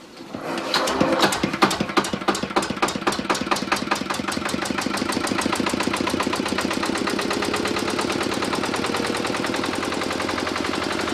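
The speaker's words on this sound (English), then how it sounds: "Out this way, the electricity comes from a generator in the back shed." A generator in a back shed on a remote Torres Strait island starts with a few uneven knocks, then settles into a fast, steady mechanical chugging, moderately close and alone.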